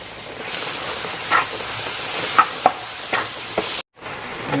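Sliced onion and tomato sautéing in a pan for Kerala fish pollichathu, a steady hissing sizzle with a handful of sharp spoon clicks and scrapes spread across it, then a brief dropout near the end.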